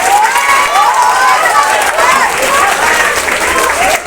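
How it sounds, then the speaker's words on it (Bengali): Students clapping and cheering in a school hall at South Point High School, a steady, dense burst of applause with shouts mixed in, filling the room for several seconds. "সার্থক আর রাজদীপের জন্য হাততালি হোক।"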